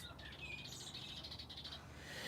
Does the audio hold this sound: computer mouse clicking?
no